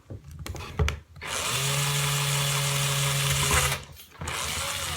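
A power drill whines steadily for a few seconds at a fixed pitch while drilling a hole in an ice cream cone, stopping briefly between bursts, close up with no talking.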